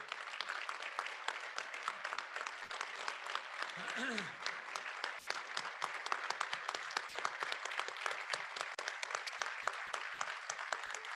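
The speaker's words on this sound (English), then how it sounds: "Please join me in a round of applause thanking Earl for everything he's done for our industry." A luncheon audience applauds a retiring industry director, giving a steady, fairly distant round of clapping that carries evenly throughout with no break.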